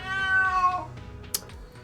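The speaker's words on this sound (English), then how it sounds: "Sorry, that's my cat." A pet cat meows once, close and fairly loud, in a long drawn-out call with a falling end, followed by quieter room noise and a brief sharp tick.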